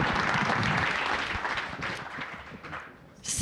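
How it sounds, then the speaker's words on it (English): Conference audience breaking into a loud, dense round of applause that fills the room, then gradually thins and fades toward the end. "Big round of applause for Santia, Mallory, and Angela."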